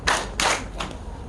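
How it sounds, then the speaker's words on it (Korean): An audience claps in unison in sharp group bursts: two strong claps in quick succession, then a fainter third, close and loud with no talking. "자, 박수 두 번 시작"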